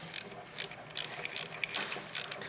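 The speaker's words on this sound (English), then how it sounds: "Drop a washer on there, the nut, and we'll go ahead and tighten those up with an 11 millimeter" A ratchet wrench clicks in quick, close bursts while tightening an 11 millimeter nut on a fog light bracket of a Toyota Tacoma, several short rasping strokes in a row.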